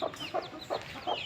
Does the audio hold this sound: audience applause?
no